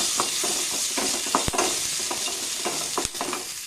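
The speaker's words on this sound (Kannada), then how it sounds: "ಈರುಳ್ಳಿನೂ ಸ್ವಲ್ಪ ಚೆನ್ನಾಗಿ ಫ್ರೈ ಆಗಬೇಕು." Chopped onion fries for a red chutney, giving a dense close sizzle broken by repeated scraping stirs and a couple of sharp spoon knocks against the pan, with no talk.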